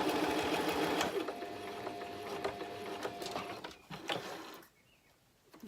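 A sewing machine stitches fabric for a bunny drawstring gift bag, running in a fast rattling burst that slows and stops near the end, with faint handling noises afterward.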